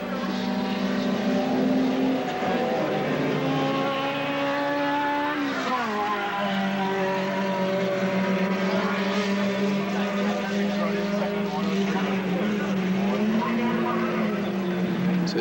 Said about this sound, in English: He's up on the back straightaway now as the second placed Gordon Gonzalez goes down the straightaway.